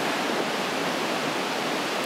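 A raging mountain torrent in the High Caucasus roars as a dense, steady wall of rushing white water, loud and close with no pauses.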